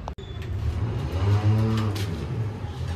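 A car engine revs up and holds a steady, loud droning pitch, then eases slightly, with no voices over it.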